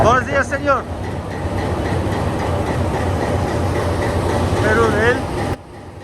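A train to Machu Picchu near Cusco, Peru rumbles loudly and steadily with rolling rail noise, while a person talks briefly at the start and again near the end.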